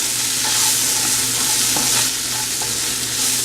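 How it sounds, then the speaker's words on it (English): Dry chili, cumin and black pepper masala sautéing in a pan for a fried fish curry: a continuous loud sizzle with soft stirring scrapes, close up and without speech. "Now I'm going to add our masala, that is dry chili, cumin and black pepper. Saute it nicely"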